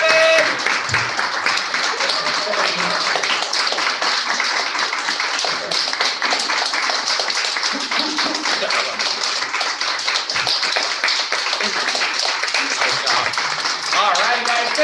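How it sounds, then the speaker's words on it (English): A group in a martial arts basic class claps and applauds continuously, with dense, even clapping that stays loud throughout while an instructor talks over it. "Keep clapping."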